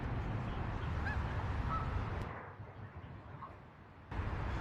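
Ducks at the Tidal Basin waterfront in Washington during cherry blossom season, giving a few honking calls over steady outdoor wind and distant rumble, moderately far off, with no voices.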